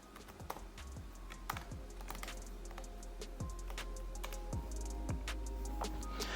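Rapid typing on a computer keyboard, with steady clusters of key clicks running throughout at moderate volume over a faint constant background hum.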